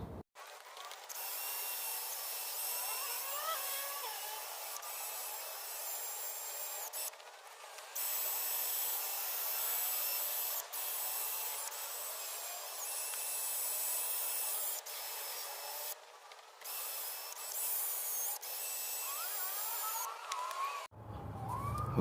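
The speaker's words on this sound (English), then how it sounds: "Okay, I did about 10 minutes worth of buffing." Power buffer working on plastic car headlights, a steady high whirring grind that runs in long passes and cuts out briefly a few times, with no voices.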